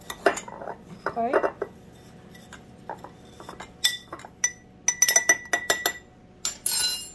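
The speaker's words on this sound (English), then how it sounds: "You may want to mix it up a little bit, give it a little mix with a spoon." A spoon stirs a valerian root and passionflower alcohol tincture in a glass jar, making irregular close clinks and scrapes against the glass, with a brief spoken word.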